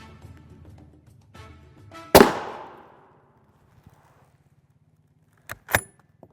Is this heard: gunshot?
yes